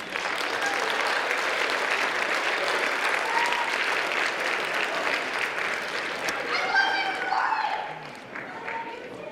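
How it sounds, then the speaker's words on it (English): A high school gym crowd applauds loudly and steadily for several seconds, with scattered cheers, before the clapping begins to fade near the end. "Let's give them a big round of applause."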